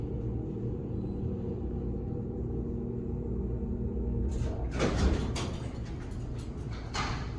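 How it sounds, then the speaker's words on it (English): An original Dover elevator door operator in a Sterling Plaza garage elevator, a low steady motor rumble for several seconds, then a louder sliding, clattering door movement with a couple of sharp knocks, heard alone. "Still its original door operator"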